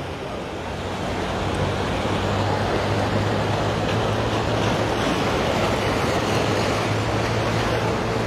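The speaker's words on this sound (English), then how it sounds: "the waves are all over the wall there" Waves at Waikiki beach in Hawaii at high tide, splashing over a sea wall as a loud, dense, continuous roar of surf that swells up after the first second and holds steady.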